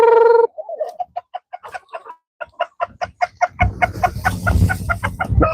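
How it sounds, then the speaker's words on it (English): A rooster on a farm in Aklan clucks in a quick, rhythmic string of short, close calls. A louder, rougher burst of farmyard noise rises underneath toward the end. "once that rooster gets to clucking, they come running"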